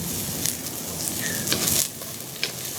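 Onion, garlic and red and green chilies sizzle and crackle in a hot pan with olive oil, with a few scraping stirs and soft clatters over a steady close frying hiss; no talking.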